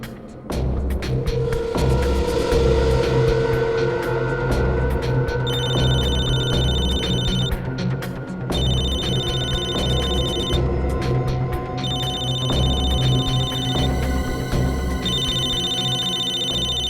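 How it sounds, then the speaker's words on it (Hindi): A mobile phone rings in a police drama scene with a steady electronic ring repeating in regular bursts over a droning background hum and music. "दया इसके मोबाइल पे क्यों फोन कर रहा है?"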